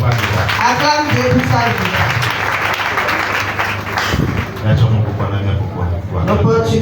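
Applause from a church congregation during a sermon, a sustained wash of clapping mixed with cheering voices, loud and continuous, with someone speaking over it.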